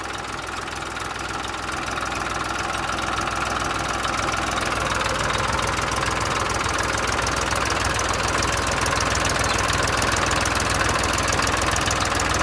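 A Massey tractor stuck in a farm field, its engine running steadily and straining with a continuous rough, knocking drone at constant loudness, close by and with no talk over it.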